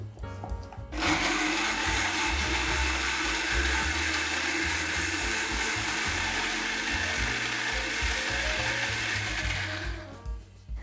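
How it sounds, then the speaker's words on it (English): A blender runs loudly for about nine seconds, whirring through a thick curry paste of chili and lemon juice with a steady grinding roar, then stops abruptly. "And I'm gonna go ahead and blend."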